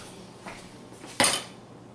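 A metal spoon knocks against a pan of lemon butter sauce, first with a soft tap and then with a sharper, ringing clink, near and otherwise quiet.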